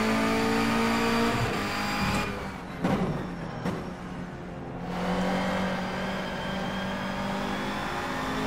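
A Honda Civic NGTC touring car engine in the rFactor 2 racing simulator at the Nordschleife drones loudly and continuously, with brief dips and shifts in pitch mid-way before resuming a sustained high-revving whine.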